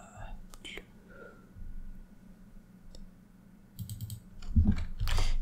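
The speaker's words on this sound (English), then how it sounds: "now I'm gonna focus here and do some mostly typing until I finish this entire loop" Soft, sparse clicks of a computer keyboard typed while coding JavaScript, with quiet whispered talk over a low room hum and a burst of louder keystrokes near the end.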